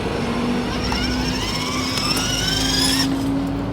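Car engine accelerating on a road during a drive home, a steady broadband motor roar with rising tones and a brief horn-like whine fading out near the end, loud and continuous throughout.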